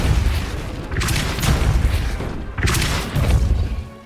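Two heavy booming spell blasts from a video game, each a loud broadband burst with a rumbling tail, spaced about a second and a half apart over continuous low ambience.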